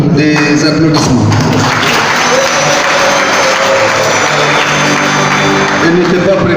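Loud, dense applause from a church congregation in Kinshasa honouring a choir during a thanksgiving service, sustained and even throughout with a crowd murmur and a voice over it.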